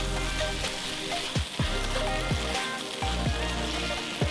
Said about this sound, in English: throw in your garlic. Stir and cook for about 1 minute.